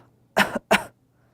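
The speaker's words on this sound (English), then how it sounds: "see what it feels like to just take a small cough" Two short, light coughs in quick succession, close and clear against a quiet background.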